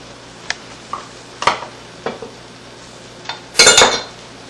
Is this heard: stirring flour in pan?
yes